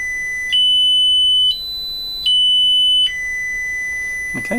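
Steady pure tones from a signal generator through a speaker in a cheap electronics kit, stepping between a few pitches in sustained segments, loud and clean with no voices.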